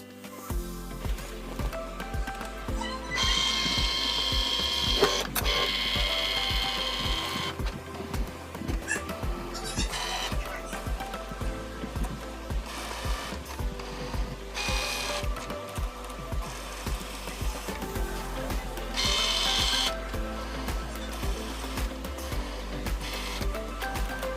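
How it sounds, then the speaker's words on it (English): An electronic cutting machine works through cardstock with a continuous close whir and rhythmic mechanical motor passes, rising and falling as the carriage moves back and forth. "Load it up into the machine, then the machine does the rest of the work."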